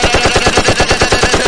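Rapid automatic gunfire in the video game PUBG, a steady string of loud, evenly spaced shots firing close up for the whole moment with no pause.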